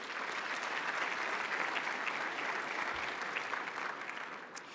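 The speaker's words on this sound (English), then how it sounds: "Give yourselves a round of applause." A large audience at a port's annual address bursts into steady, dense applause that holds evenly for several seconds, full and room-filling, with no voices over it.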